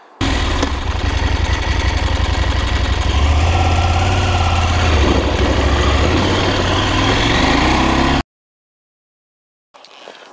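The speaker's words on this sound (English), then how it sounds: "the mechanical noise from the engine, it sounds like it's broken" KTM 890 Adventure engine idling with noisy mechanical clatter, a steady close rumble with a ticking rattle on top, cutting off abruptly before a faint return.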